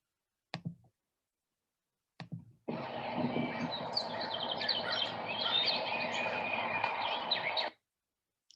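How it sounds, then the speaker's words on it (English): A couple of faint clicks, then a steady stretch of bright, twittering finch song lasting about five seconds before stopping abruptly. "It sounds like a finch."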